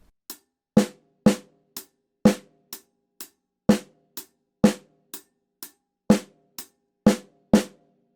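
A paradiddle groove on a drum kit, with the right hand on the hi-hat, played slowly: crisp hi-hat ticks alternate with heavier drum hits in a repeating, uneven-accented pattern, close and loud with no talking.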